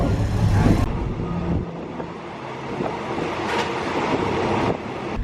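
A train runs along the line near the River Kwai bridge in Kanchanaburi, Thailand, a steady rumbling clatter of wagons that is close and fairly loud, mixed with light wind noise.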